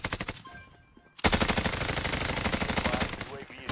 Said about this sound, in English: I think I'm getting shot from top, Bertha.